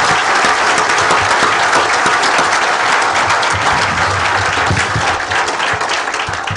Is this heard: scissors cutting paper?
no